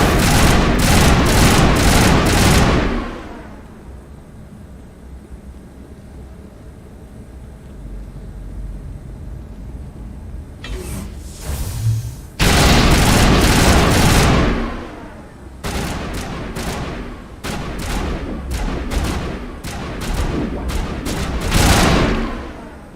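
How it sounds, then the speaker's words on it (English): Bursts of rapid gunfire from a Mass Effect video game battle, loud volleys at the start and end with a quieter stretch between, plus another short burst in the middle. "What are you shooting at?"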